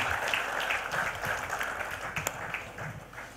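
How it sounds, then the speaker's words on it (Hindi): An audience applauds the chief guest, Minister for Information Technology Sunil Kumar Sharma, after his speech, a steady wash of clapping from a seated crowd with a few louder close claps standing out. "एक बार फिर से ज़ोरदार तालियां हो जाए सर के लिए"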